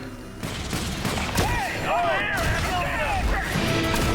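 Gunfire in the XCOM The Bureau video game, dense bursts of shots and impacts mixed with whistling effects and game sounds, running continuously over a loud combat backdrop.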